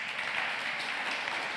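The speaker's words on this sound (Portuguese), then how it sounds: "Você pode dar uma salva de palmas para o Senhor?" A church congregation gives a short, even burst of applause for the Lord during a Sunday sermon, soft and diffuse with no individual claps standing out.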